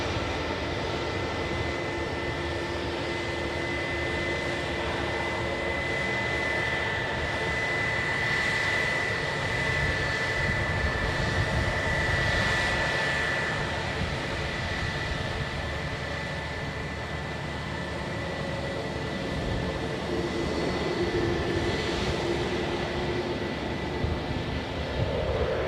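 A Qatar Airways Boeing 787 at Edinburgh Airport gives off a steady jet engine roar that holds at a moderate distance throughout, with a faint high whine over a broad rumble.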